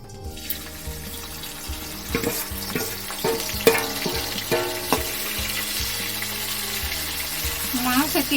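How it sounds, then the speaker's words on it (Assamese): Prawns frying in a hot kadai, a steady crackling sizzle with clinks and scrapes of stirring throughout, close and fairly loud, with no talking. "এতিয়া মাছকেইটা ভাজি লওঁ।"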